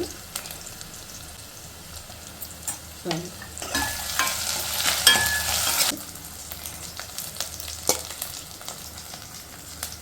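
Onions with ginger garlic paste sizzling in a pan for prawns curry, a steady fry with scraping stirs, the hiss swelling louder for a few seconds in the middle.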